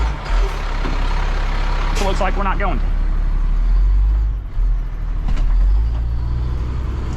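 Heavy truck idling and creeping forward near a curb on a job site, a steady low engine rumble throughout with a brief air-brake hiss, while someone talks over it.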